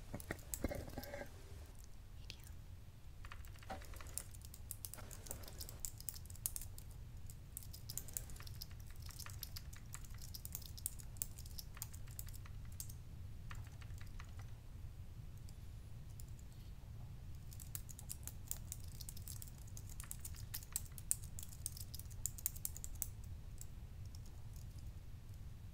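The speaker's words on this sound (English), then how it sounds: "Just go ahead and type it in the text chat." Computer keyboard typing into a text chat, a steady run of quick, soft key clicks over a constant low hum that continues throughout.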